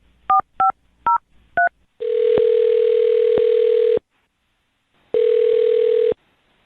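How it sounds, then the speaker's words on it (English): A telephone plays four quick dialing tones as a number is punched in, then a steady dial-type tone sounds loudly for two seconds, pauses, and returns briefly, all with no voices. "I'm going to dial his phone number right now"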